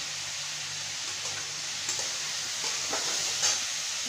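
Chili sizzles steadily in hot oil in a pan for egg curry, a constant soft hiss with a few faint clinks and stirring scrapes, no talking.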